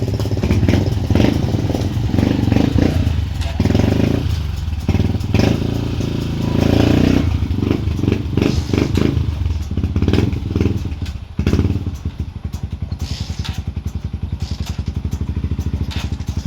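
Two Kawasaki TMX motorcycle engines rumble loudly and close by in a parking area, revving unevenly before settling into a rapid, steady idle with occasional clattering thumps.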